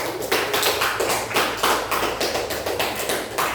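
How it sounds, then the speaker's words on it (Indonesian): A classroom of students claps after a group presentation: steady, dense applause from many hands that runs unbroken throughout, with no voices over it. "Kita berikan aplaus"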